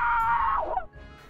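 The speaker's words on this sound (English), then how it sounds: "Well, that scream didn't seem sus at all." A scream in a video game, a single loud high-pitched cry that sustains and then bends downward before cutting off, alone with no talk.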